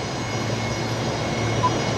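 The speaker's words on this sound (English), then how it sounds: "And very noisy, those Rolls-Royce Tays." A Fokker 70 jet with Rolls-Royce Tay engines, holding short at Brisbane Airport, produces a steady, loud engine roar with a constant whine that runs without a break.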